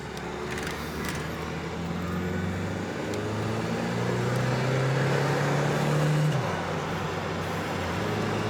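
A 1986 Mercury Cougar XR7 convertible cruises down the road with a steady engine drone and road rumble. Its pitch climbs gradually as it accelerates, then drops sharply as it shifts gear, and no one speaks.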